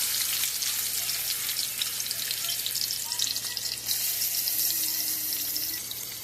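Fish frying in a pan of hot oil for a desi-style fish curry, giving a steady, loud, close sizzle with a bright crackling hiss that runs the whole time with no talking.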